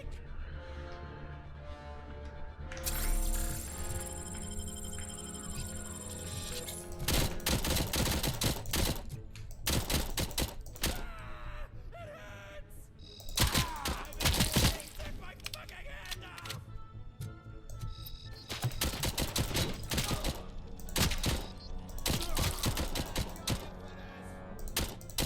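Uzi submachine gun fire in the video game HD2 crackles in rapid, dense bursts over a busy, loud game mix, with a steady music bed underneath and talk mixed in among the shots.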